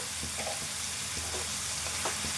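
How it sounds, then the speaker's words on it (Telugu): Chicken pieces seasoned with salt and green chilli sizzle steadily in a hot pan, a constant close crackle with a few soft stirring scrapes and no talking. "ఇదంతా కొంచెం వేగాలి"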